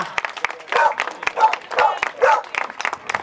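Applause and cheering at a dog show event in Lublin comes in uneven bursts of clapping, with a voice calling out over the crowd in between.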